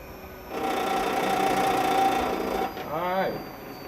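An electric motor in an electrical engineering capstone demo runs at changing speeds, a steady mechanical whir with a tonal hum that rises and falls, with a voice briefly talking near the end.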